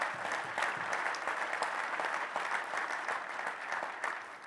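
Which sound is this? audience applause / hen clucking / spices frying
audience applause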